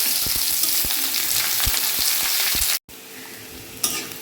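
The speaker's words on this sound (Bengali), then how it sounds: "এখানে রসুন ভাজা হচ্ছে" Garlic fries in hot oil in a home kitchen pan, a dense continuous sizzle with regular stirring clicks, close up; the sizzle drops briefly then resumes quieter with a final louder crackle.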